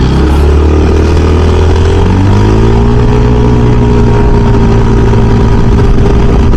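A Yamaha Xmax 250 scooter engine from the 2014–2017 model years, rebuilt after burning oil, rising in pitch as it revs, then holding a loud, steady high rev close by.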